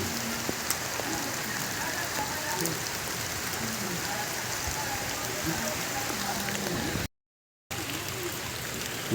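Steady rain pattering on surfaces, a constant close hiss of drops with no voices, briefly cut to silence near the end.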